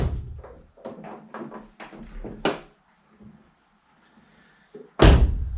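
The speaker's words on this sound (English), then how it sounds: "Auto doors, automatically designed to trap your legs when you get in and out" Sliding and hinged doors of a Vauxhall Vivaro van bang shut in close, loud thuds, with a spoken voice beforehand and a final heavy slam standing alone near the end.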